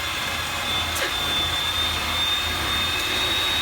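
An electric hand whisk beats a batter of eggs and flour with a continuous, even whirring buzz and a thin steady whine, running loud and unbroken throughout.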